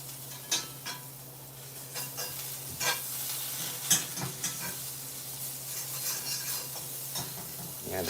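Eggs and butter sizzle steadily in a hot Blacklock cast iron skillet while being cooked for an omelette, a continuous frying hiss broken by occasional scraping and tapping of a utensil against the pan.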